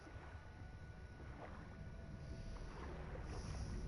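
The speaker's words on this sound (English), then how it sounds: "I'm swimming around." Character swimming through water in the video game Horizon Forbidden West, a steady low churning wash of water with a faint rushing hiss, continuous and fairly quiet with no talk.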